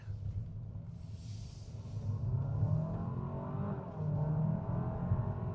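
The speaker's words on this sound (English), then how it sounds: "nice engine tone, good response" A Hyundai Santa Fe 2.5T engine hums and rises in pitch as it accelerates, heard from inside the cabin with a low steady rumble and some faint hiss.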